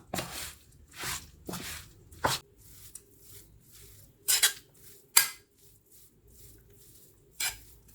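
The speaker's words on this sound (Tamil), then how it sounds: "நம்ம ஆல்ரெடி குக் பண்ணி வச்சுருந்த குதிரவாளி அரிசியை வந்து ஆட் பண்ணிக்கிறேன் இப்போ இதை நல்லா மிக்ஸ் பண்ணி விட்டுக்கலாம்" Cooked kuthiraivali (barnyard millet) rice being stirred and mixed in a pan, with a series of close scraping and clattering spoon strokes at irregular intervals and quiet gaps between them.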